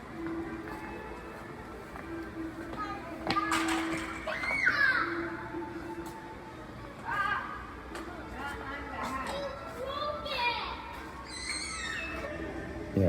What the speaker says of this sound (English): there is a kid screaming here as soon as we go up the steps here